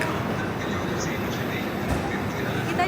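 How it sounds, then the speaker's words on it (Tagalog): An Italo high-speed train slows on its arrival into Milano Centrale, a steady rail rumble and hiss heard from inside the carriage with a faint squeal near the end. "Nag-slow down na yung train."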